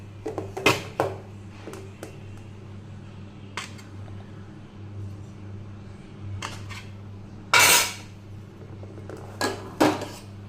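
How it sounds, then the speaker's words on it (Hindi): Rice and jackfruit curry being served at home, with sparse, faint clinks and scrapes of dishes and cutlery spread over several seconds above a low, steady background hum. "भात निकाल लेलहुँ, कटहर के सब्जी निकाल ले छी।"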